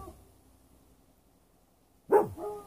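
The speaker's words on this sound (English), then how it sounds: "he barked a few times, and Lacey did not bark at all" One sharp, loud dog bark breaks a long quiet stretch near the end, followed by a softer trailing yelp.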